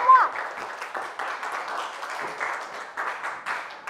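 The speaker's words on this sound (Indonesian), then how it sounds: "Tepuk tangan dulu untuk semua." Schoolchildren in a classroom clapping at the end of a lesson, a moderate patter of scattered hands with voices mixed in.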